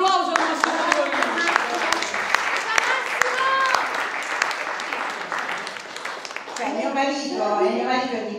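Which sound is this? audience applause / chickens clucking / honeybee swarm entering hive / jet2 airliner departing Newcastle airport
audience applause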